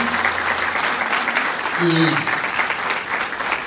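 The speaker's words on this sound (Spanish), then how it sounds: "Le volvemos a dar el aplauso de gratitud a la licenciada Patty." Steady applause of gratitude fills a room at a parents' school session, a continuous clapping wash with a brief voice heard partway through.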